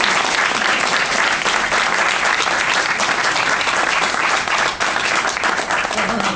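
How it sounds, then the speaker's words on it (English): A political audience at a Senate announcement breaks into loud, sustained applause, a dense wash of many hands clapping close and steady throughout. "That's a round of applause."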